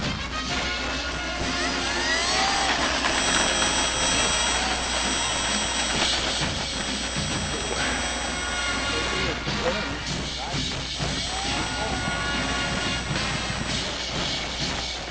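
A-1H Skyraider model aircraft engine runs on a center-field runway, a continuous loud buzzing drone with faint pitch shifts, while a person talks over it.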